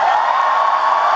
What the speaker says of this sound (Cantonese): 我聽到你哋呢個歡呼聲咧，我就安樂晒啦